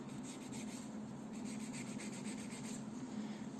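A nail file works over an artificial nail extension in quick, steady back-and-forth strokes, producing a soft, close, continuous rasping rub with no voices.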